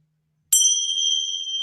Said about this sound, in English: with the bell first of all.